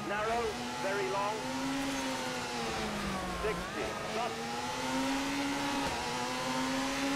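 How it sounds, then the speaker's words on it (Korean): A steady high turbo whine rises and falls in pitch over a continuous engine-like drone, loud and constant throughout, from a rally car in the video game WRC 4 on a Sweden stage, with the engine sound missing. "터보 소리밖에 안 나와."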